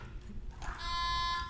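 An electronic quiz bowl buzzer sounds during a buzzer check at a national championship match, giving one loud, steady, tonal beep of about a second.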